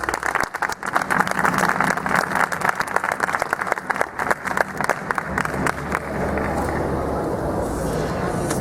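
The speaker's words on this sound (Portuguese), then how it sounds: "queria que você recebesse ele com a salva de palmas" Audience applause welcoming a speaker at a youth talk, lively crowd clapping with some cheering for about six seconds, then settling into a steady crowd murmur.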